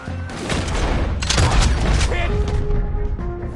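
Dense rifle and pistol fire booms close by in a Red Dead Redemption 2 shootout, overlapping cracks and rumbling blasts under shouting voices, ending with a ringing metallic tone.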